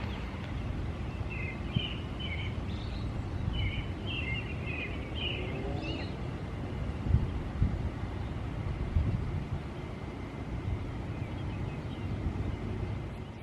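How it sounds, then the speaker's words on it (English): Faint birdsong in a morning garden, a few short chirping phrases in the first half over a steady wash of wind and low background rumble, distant and quiet. "You can hear all the birds."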